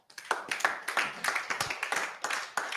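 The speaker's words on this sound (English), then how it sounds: "I say you deserve a big clap for yourself." An audience applauds in an auditorium at the close of a land surveying seminar: steady, fairly close clapping from many hands that runs throughout without a break.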